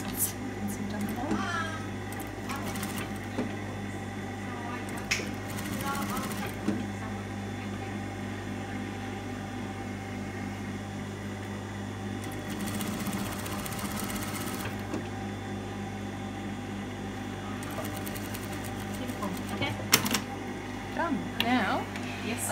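A sewing machine running a long basting stitch for a ruffle: a faint steady mechanical whir under a low continuous hum, with people talking over it throughout.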